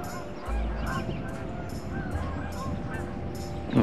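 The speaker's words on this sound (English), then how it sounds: "Or giant flock of geese crossing the skyline over there." A large flock of geese flies overhead, many honks repeating in a loose rhythm at some distance over steady outdoor background noise.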